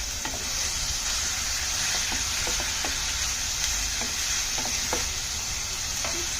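Onions for a shrimp curry frying in a pan, a steady bright sizzle running throughout with soft intermittent taps of the stirring spoon.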